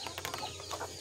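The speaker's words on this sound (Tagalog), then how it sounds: "Ayan na po ang mga sisiw ko." Chicks in a cage give a short burst of faint, high, rapid peeps that overlap one another.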